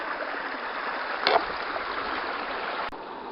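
Gold panning in a stream near Tyndrum: steady rushing, swirling water close by, with a brief louder slosh partway through as the pan is worked, then the flow continues evenly.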